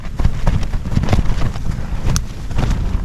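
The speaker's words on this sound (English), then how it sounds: "Wind's really getting up." Strong gusts buffet a microphone at a mountain campsite, a close, loud, rough rumble with uneven flapping bursts and no talking.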